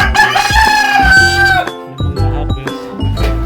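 Rhode Island Red and Dekalb Brown chickens crow and cluck up close and loud, with a drawn-out crow followed by a run of sharp clucks.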